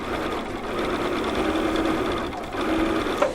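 A sewing machine runs steadily, stitching a strip of fabric for a quarter-inch seam, with a continuous close mechanical whir that briefly eases and then picks up again.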